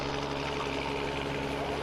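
The Black Magic pulling tractor, driven by Rod Schottel, idles steadily as it backs up to the sled at a pulling event in Osceola, Iowa, a constant low engine rumble with a broad, even roar and no breaks.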